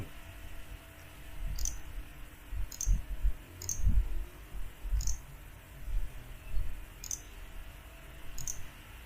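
Computer mouse clicks during drawing software work, sharp light ticks in small pairs repeated about every second or so over a low background hum.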